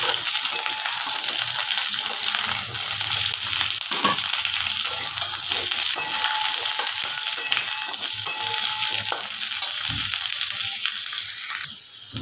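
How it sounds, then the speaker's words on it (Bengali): Chopped vegetables fry in a hot pan, a steady loud sizzle broken by scraping and tossing sounds as they are stirred, close up with no talk. "এবার সবজিগুলোকে ভালোভাবে নাড়াচাড়া করে নেব"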